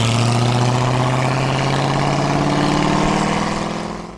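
A 1964 Chevrolet Impala engine rumbles loud and close with a deep, steady idling growl and a pulsing low tone, fading out at the end.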